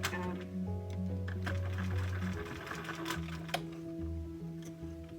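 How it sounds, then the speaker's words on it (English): A sewing machine stitches a lined double-sided drawstring bag, running forward then back in a short reverse stitch, a steady close mechanical whir and rapid needle rhythm with a brief pause and clack partway through. "always go forward first and then do a little bit of a reverse sew"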